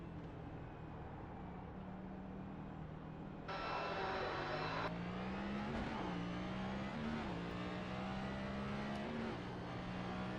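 NASCAR race car in iRacing at Sonoma, its engine droning steadily and then rising in pitch as the throttle opens, with a louder burst of noise partway through. The engine stays continuous and close throughout, and no one talks.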